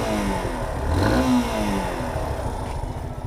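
A motorcycle engine revs up loud and close, rising in pitch around the middle. Rough clattering rumble surrounds it on a dusty road.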